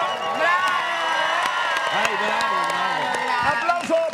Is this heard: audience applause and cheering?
yes